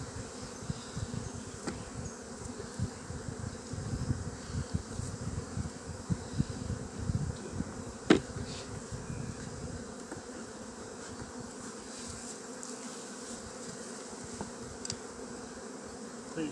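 Honey bees drone steadily at an open hive during a New Zealand hive inspection, a close, continuous buzz that rises and falls slightly, with a few faint knocks and clicks of handling.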